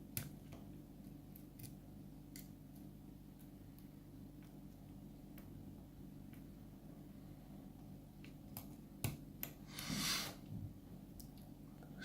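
A lock pick works the pins inside a Tin Man 13 lock, producing faint, sparse tiny clicks up close in a quiet room, with one brief louder scrape near the end.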